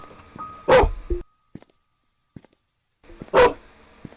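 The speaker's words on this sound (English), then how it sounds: "Oh, the dogs terrified me." Dogs in a video game, The Painscreek Killings, give two loud, sharp barks a few seconds apart, with short scuffling sounds and near silence in between.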